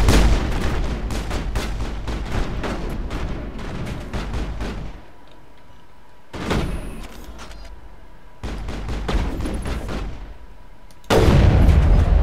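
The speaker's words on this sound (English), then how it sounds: "Yep, that was an explosion." Dense bursts of rapid gunfire and blasts, broken by short quiet gaps, then a loud booming explosion near the end; close and heavy, from the video game Mass Effect.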